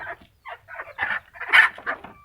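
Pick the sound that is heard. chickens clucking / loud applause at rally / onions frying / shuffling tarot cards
chickens clucking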